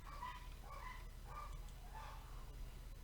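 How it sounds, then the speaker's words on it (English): Dogs barking several times at a moderate distance, yips and woofs spread across a few seconds over a steady low hum. "The dogs keep freaking out."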